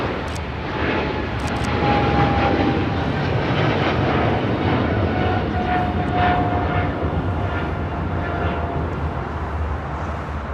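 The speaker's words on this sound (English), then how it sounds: "This is China Cargo Airlines 222 taking off to Shanghai on a 777 freighter" A China Cargo Airlines Boeing 777 freighter takes off at LAX, its engines producing a loud, steady, broadband roar that holds throughout without a break.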